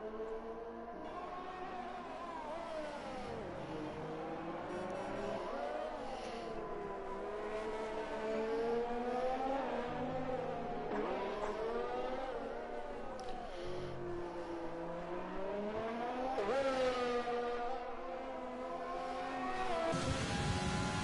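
A race car circles a lap of a Brazil circuit in a racing video game, its engine revving loudly and continuously through rising and falling gear shifts, with tyres squealing through corners under a commentator's voice.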